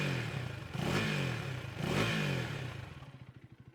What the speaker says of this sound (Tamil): அந்த கேடிஎம் கேரக்டர் சவுண்ட் வந்து நமக்கு நீட்டாகவே இருக்குது.